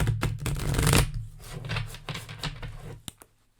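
A deck of playing cards riffle-shuffled by hand in one messy pass, a dense flurry of crisp flicks that swells, fades and ends with a few soft taps, close and alone.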